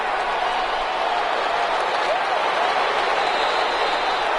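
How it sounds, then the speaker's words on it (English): Synthesized crowd applause in a football video game after a defensive stop, a steady wash of stadium cheering and clapping at even loudness throughout, with no break. "How about some applause for the defense there?"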